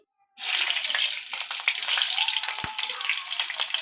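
Green chillies dropped into hot oil in a kadai burst into a sudden loud, bright sizzle that keeps hissing and crackling steadily, close and with no talking.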